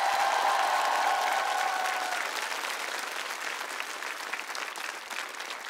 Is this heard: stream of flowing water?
no